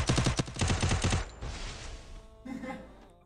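Rapid bursts of gunfire ring out in a shooter video game, two loud volleys of quick repeated shots followed by a fainter scattered burst near the end.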